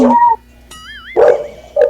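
A neighbour's dog barks in short, loud bursts at the start and end, separated by a gap filled with a wavering, whistling tone.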